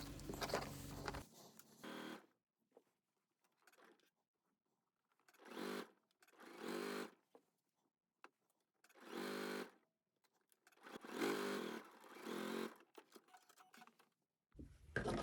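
A sewing machine stitches a skirt yoke seam at 5/8 inch, running in several separate bursts of a few seconds each with quiet pauses between, close and fairly soft, with no talking.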